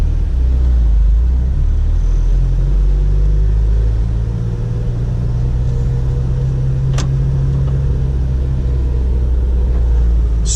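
Inside a Honda car with an electric steering fault, driving along with a loud, steady low engine and road rumble that holds evenly throughout, no talking.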